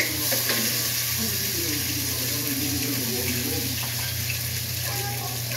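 Tomato, onion and garlic sizzle steadily in hot oil in a pan during home cooking, a continuous close frying hiss with faint stirring and clinks, with no voices.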